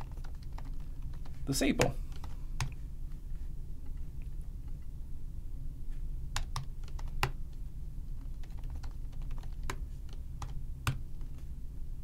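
Sparse computer keyboard typing with scattered key clicks, a brief burst of rapid taps early on, over a steady low background hum; a voice speaks briefly.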